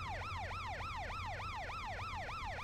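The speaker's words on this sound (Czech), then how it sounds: "že tam jsou hlasité policejní sirény" Loud wailing police sirens from the video game Driv3r, a rapid repeating rise-and-fall yelp cycling steadily several times a second over a low engine rumble, with no talking.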